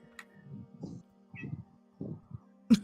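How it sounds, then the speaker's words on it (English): A pet cat gives several short meows in a quiet room, with a sharp, louder cry near the end. "anytime if you ever hear my cat meowing, it's just Cookie"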